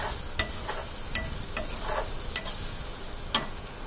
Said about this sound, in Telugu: ఆనియన్స్ వేసుకున్నాక 4 గుడ్లు అయితే కొట్టి వేయించుకోవాలి